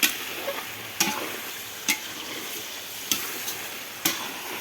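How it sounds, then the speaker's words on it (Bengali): Meat frying in a pan while being stirred, with a steady sizzle broken by about five sharp scrapes of a utensil at roughly one-second intervals, close and moderately loud. "আজ কি আমি একটু মাংস রান্না করতেছি"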